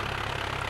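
A tractor engine idles in Farming Simulator 2011 as a steady low droning hum with a faint pulsing throb, continuous and alone.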